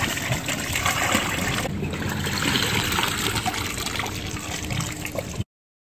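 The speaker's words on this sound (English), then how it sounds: "you're going to rinse it out." Water splashing and trickling steadily over a full face snorkel mask as it is rinsed out, a continuous close wet rush lasting about five seconds before cutting off.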